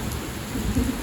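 Heavy monsoon rain pours steadily over a village while low thunder rumbles close by, swelling briefly near the end, with no voices.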